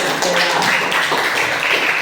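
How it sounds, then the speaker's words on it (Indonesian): A class of schoolchildren in a PE lesson applauds briefly, a dense patter of claps filling the room at steady loudness. "Tepuk tangan dulu."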